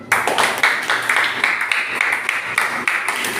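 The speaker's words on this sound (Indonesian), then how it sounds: "Tepuk tangan dulu." A class of students clapping for a group that has just finished its presentation. The clapping is brisk, loud and close, with uneven bursts over a few seconds.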